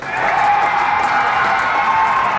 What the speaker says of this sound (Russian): после его появления на экранах некоторые участники мероприятия начали аплодировать